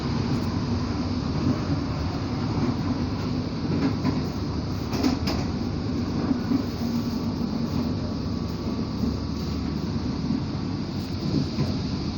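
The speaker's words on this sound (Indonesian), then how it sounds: "Ada JR 205 series." A JR 205 series commuter train runs along a rail line between Pasar Senen and Bekasi, giving a steady, continuous rumble of wheels and carriages at moderate distance throughout, with a faint high squeal partway through.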